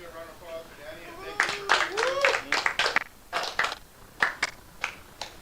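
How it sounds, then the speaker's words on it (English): A round of applause for Danny at a hockey gathering: a few close, sharp claps in an uneven patter, heard alongside and after a man's speech and fading into sparse individual claps. "let's give a round of applause for Danny"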